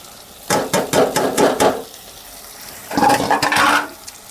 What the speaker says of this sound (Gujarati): હવે આપણે રીંગણા નાખી દેવાના છે ઘડીક કોરામાં ઓલા થવા દઈશું